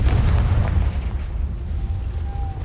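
A Confringo spell explosion in Hogwarts Legacy lands as a loud, deep booming blast with a heavy low rumble that decays slowly over a couple of seconds, close and dominant.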